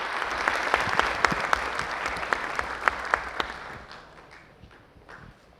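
An audience at a Library Week ceremony applauds as the Turkish Minister of Culture and Tourism walks onto the stage, a crisp burst of clapping with a few loud individual claps that gradually fades out.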